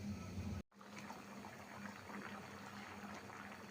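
Rui fish curry bubbling in a pot on the stove, a soft continuous simmer with gentle popping bubbles after a brief dropout near the start, close and quiet, no voices.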